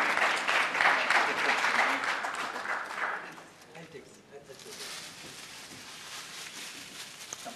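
An audience at an annual oration in a Chennai hotel applauds for about three seconds before the clapping thins into quieter room noise.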